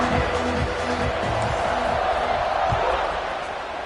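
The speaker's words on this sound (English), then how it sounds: "this crowd is buzzing after that last score" A football stadium crowd at a South Carolina vs Houston college game keeps up a steady, dense roar just before a kickoff, while a commentator talks over it throughout.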